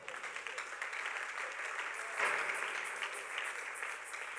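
A church congregation at a Sunday service claps together in steady applause, moderately distant in a reverberant room, swelling briefly midway.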